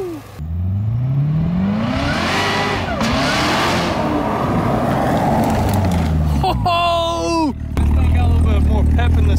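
A rebuilt Corvette ZR1's LT5 engine fires up and revs repeatedly, its pitch sweeping up and down, loud and close, with voices talking over it.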